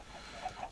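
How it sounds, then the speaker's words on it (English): Chickens clucking in a Minecraft FTB Ultimate modpack world: a couple of soft, brief clucks, fairly faint, heard alone with no talk. "there you get some floating chickens down there"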